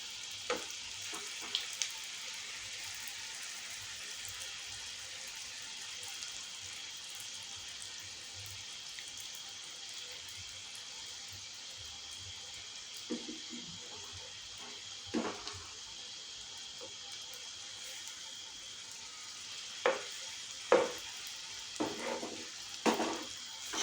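Sweet potato pithas fry quietly in a pan with a soft, steady sizzle. Occasional louder clicks and bursts come as pieces are turned, especially toward the end.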